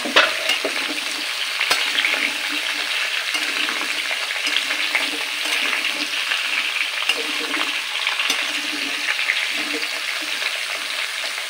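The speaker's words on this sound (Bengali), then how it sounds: "এইভাবেই মিনিট 5 একটু তেলের মধ্যে নেড়ে নিতে হবে" Chopped mango pieces fry in oil in an uncovered wok for a jaggery mango pickle, a loud continuous sizzle with scraping stirs scattered throughout.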